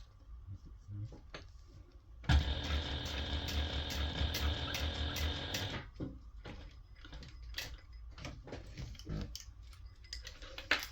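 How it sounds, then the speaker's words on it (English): A sewing machine top stitching a binder cover with a 1/8 inch seam allowance, a steady fast mechanical whir and ticking lasting a few seconds, followed by quieter clicks and handling noises. "I'm going to go ahead and top stitch using a 1/8 inch seam allowance."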